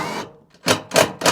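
A tech screw driven into a metal roofing sheet on a rear wall, heard as a few sharp, close metallic bursts in quick succession after a brief rasp.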